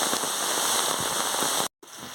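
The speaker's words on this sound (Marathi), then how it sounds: "पाऊस फार पाऊस बघा किती भरपूर पाऊस पडतोय" Heavy monsoon rain in Konkan, India roars in a dense, steady hiss, close and constant, cutting out for a split second before resuming.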